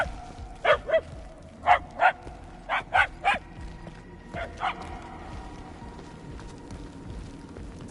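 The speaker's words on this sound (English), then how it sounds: "The barks are getting louder at least." A dog in the Guardians of the Galaxy video game gives a series of distinct barks, paired in quick doubles, heard at mid-distance over a low ambient game soundscape, then two fainter barks follow.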